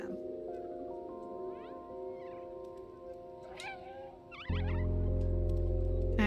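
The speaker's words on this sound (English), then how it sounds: "Meow to attract enemies." Cat meows from the video game Stray, several short plaintive mews over a steady tonal music bed, followed by a sudden low droning rumble as the game sound shifts.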